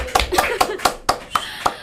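An audience claps in a studio setting, a short run of about seven distinct sharp claps in a loose, steady rhythm, fairly close and moderately loud.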